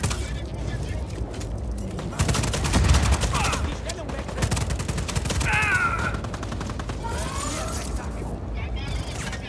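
Gunfire in Just Cause 4 crackles in dense bursts across the whole stretch, mixed with mechanical clatter and game effects, busiest in the middle, with talk over parts of it.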